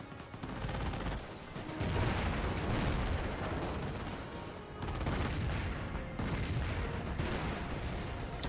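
Rapid bursts of rifle and machine-gun fire with heavy explosions fill a Company of Heroes battle as infantry assault a repair bunker, the dense, loud combat rising and falling in waves without speech.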